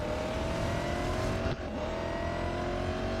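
A race car engine in the mobile racing game Real Racing 3 drones loudly and steadily, briefly dipping midway as if shifting, then resuming its sustained whine.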